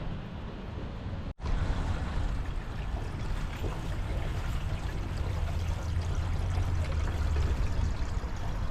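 Water pours from a free potable water tap in Whistler into a small portable shower container, a loud, steady rushing stream that follows a brief cut near the start.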